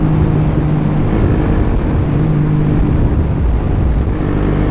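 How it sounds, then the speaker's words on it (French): A Suzuki GSX 125 motorcycle exhaust drones steadily while being ridden, with a continuous loud engine note mixed with wind buffeting on the microphone and no talk. "Là vous allez pouvoir entendre bien le pot."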